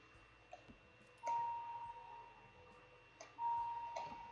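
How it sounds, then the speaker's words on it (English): An apartment doorbell rings twice, each a bright sustained electronic chime tone starting abruptly and fading, separated by about two seconds of quiet room hum. "Fucking doorbell again."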